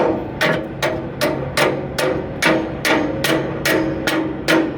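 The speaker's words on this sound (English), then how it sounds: "I gotta hammer this over to get that pin out some more" Eleven sharp hammer blows strike a metal pin at a steady, even rhythm, each ringing briefly, with no voices.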